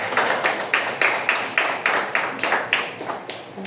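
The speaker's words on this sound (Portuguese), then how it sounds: "dá uma linda salva de palmas para Jesus" Church congregation clapping together in steady rhythmic unison, about two and a half claps per second, moderately loud and close, with no voices over it.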